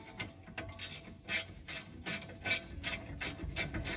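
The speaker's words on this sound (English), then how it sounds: "And once they're loose, you can use your gear wrench" A gear wrench ratchets on loosened car brake bolts during a brake job, giving a close series of quick, crisp metallic clicks in an uneven rhythm with no voices.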